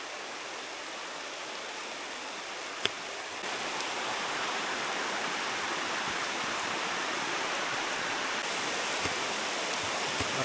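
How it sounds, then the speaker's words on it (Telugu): Steady rain falls around a small hanging bridge, a dense continuous hiss that holds evenly throughout with one brief sharp tap early on; no voices. "మీకు వర్షం సౌండ్ అర్థమవుతుందా?"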